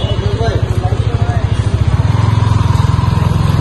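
A Yamaha R15 V3 motorcycle with an ABS fault runs close by, its engine putting out a steady rapid thrum that quickens and tightens as it pulls away for a test ride, with a voice talking over it.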